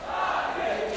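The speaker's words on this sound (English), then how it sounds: "The crowd is cheering Na'Vi." A live esports arena crowd at an SLTV StarSeries Counter-Strike semifinal roars and cheers for Na'Vi, a steady, dense wall of voices lasting a moment.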